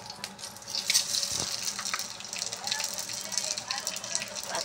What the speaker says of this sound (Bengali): এবার পাঁচফোড়ন দিলাম